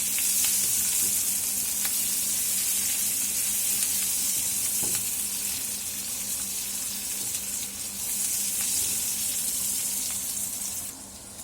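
Onions and tomatoes frying in a pan for shahi paneer give a steady, close, hissing sizzle that runs unbroken throughout, with faint scrapes and stirs mixed in.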